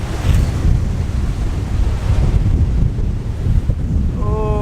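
Ocean surf surges and roars near rocky sea arches, a loud continuous wash of waves with heavy wind buffeting the microphone and a brief high whistle-like tone near the end.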